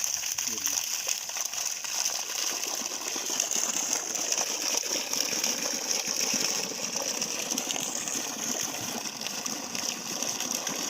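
A 3hp Versil BLDC solar pump runs steadily, pumping water with a dense, continuous mechanical whir and rushing gush that stays loud and even throughout, with no break or pause.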